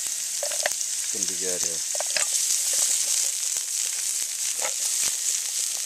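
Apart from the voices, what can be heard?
onions sizzling in hot oil in a pan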